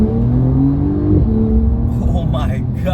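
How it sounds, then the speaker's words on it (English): A 2023 Porsche Carrera 4S accelerates hard from the cabin, its engine note climbing loudly, dipping at a gear change, then rising again, with a voice joining toward the end. "I am going to floor it a little bit."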